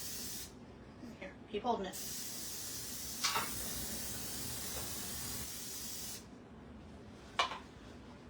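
Cooking spray hisses onto a cookie tray in a kitchen in a few short bursts and one long steady spray, with a voice speaking briefly between them.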